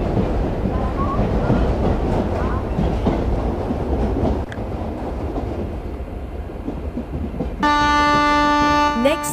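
Indian suburban local train in a simulator game rumbles and clatters steadily throughout, loud and continuous, with bright tonal horn-like chimes entering near the end.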